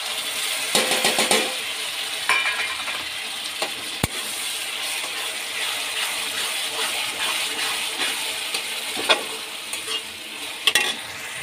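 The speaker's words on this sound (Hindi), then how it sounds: "अब डाल रही हूँ मैं टमाटर" Tomatoes fry in a pan with ginger-garlic paste for matar paneer, giving a steady soft sizzle. A spoon scrapes and stirs in short bursts, and one sharp metallic clink sounds partway through.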